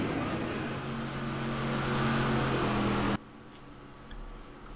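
A loud, steady roar of Classic Late Model race car engines at Nashville Fairgrounds, droning tones cutting off abruptly and leaving quieter low rumble behind.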